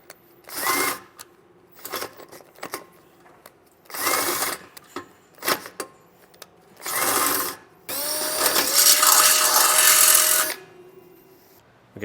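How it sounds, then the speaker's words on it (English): A power drill with a smaller bit bores a pilot hole in the front end of a 2011 Jeep Wrangler for a Roadmaster base plate, running in several loud short bursts and then one longer sustained whine, with no talking. "I'm going to use a smaller drill bit to drill a hole"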